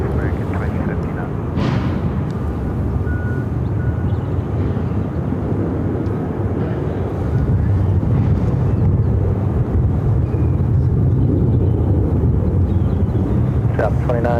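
An American Airlines airliner takes off from runway 25 right at Phoenix Sky Harbor, a steady broadband engine roar that holds throughout and swells slightly louder toward the end, mixed with wind noise.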